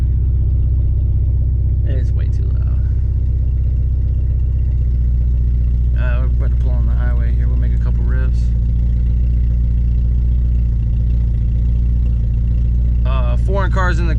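Porsche 944 with a straight pipe exhaust idles in a loud, steady low rumble that runs the whole time, while people talk briefly over it.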